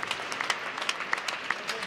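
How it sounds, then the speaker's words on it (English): Audience applause for racing teams at a schools racing national final, scattered individual claps with crowd noise close by over a short burst. "Round of applause to every team who has raced today."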